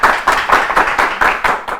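A studio audience on an Ethiopian children's TV quiz show claps for contestants, about seven loud, evenly spaced claps in near unison, close by, with no voices.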